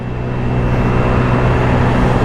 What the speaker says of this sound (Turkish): Tapa gaz şu an.